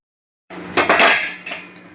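A metal lid set down on a pan of cooking potato, peas, bottle gourd and soya chunks, with a few close, sharp clanks and rattles of metal on metal over the steady hiss of the pan.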